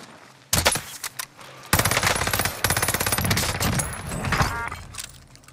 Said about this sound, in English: Who is shooting at me right now?